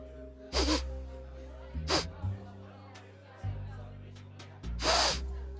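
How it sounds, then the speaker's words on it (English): A person at a tabletop role-playing game session sniffs the air, several sharp breathy bursts of inhaling spaced irregularly, close and loud over a low steady background hum. "I'm sniffing."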